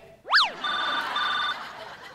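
An electronic telephone ringtone sounds on a Marathi comedy stage: a quick rising-and-falling chirp, then a steady repeating tone that stops, loud and close, with faint crowd murmur underneath.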